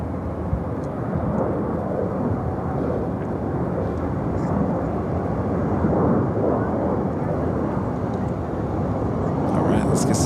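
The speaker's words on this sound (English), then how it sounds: "Our next takeoff is United 881, about to take off to Tokyo Haneda on the" A United Boeing 787-10 Dreamliner takes off from Chicago O'Hare with a loud, continuous broadband jet roar that holds steady throughout, rising slightly toward the end, with no talk.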